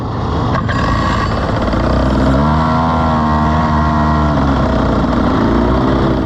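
Racing cars at the Spa-Francorchamps circuit, a loud continuous engine roar with rising and falling revs as they pass close by, with no talk.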